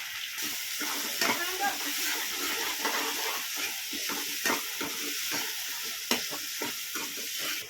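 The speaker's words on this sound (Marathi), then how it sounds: "आपण कांदा टाकून घेऊ याच्यामध्ये" Chopped onions sizzle and fry steadily in a hot pan for pav bhaji, a continuous crackling hiss broken by occasional scrapes and clicks of stirring, close and moderately loud.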